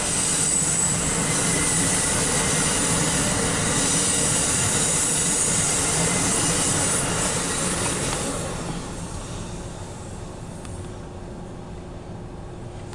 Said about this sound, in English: There goes Amtrak.